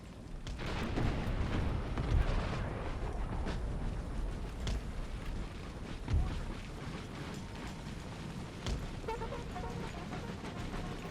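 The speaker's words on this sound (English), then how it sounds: "The artillery do their job" Artillery fire in Empire: Total War, a battlefield of cannon booms rolling under a continuous dense rumble, with several heavier thuds standing out across the stretch.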